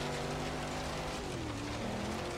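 A Chevrolet Camaro's V8 engine in the racing game Forza Horizon 3 drones steadily, its pitch sliding up and down with throttle and gear changes, fairly quiet and heard on its own.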